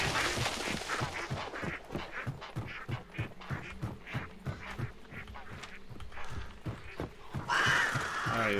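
Ducks quack repeatedly in the video game Hunt: Showdown, a dense run of harsh, overlapping calls that fills the whole stretch at steady loudness, with a broader burst of noise near the end.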